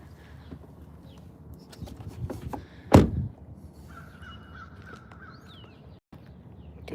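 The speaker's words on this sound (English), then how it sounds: "Oh, the crow is very crowy." A single loud, close caw from a crow rings out once over low background rumble and faint clopping sounds, followed by quieter ambient noise.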